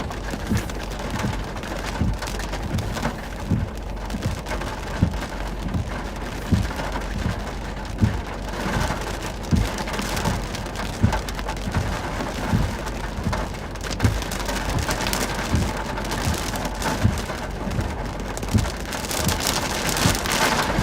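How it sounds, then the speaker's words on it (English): Steady heavy rain pours and patters on surfaces during an Arkansas thunderstorm, loud and continuous throughout with gusts of wind, no voices. "The rain and some wind too."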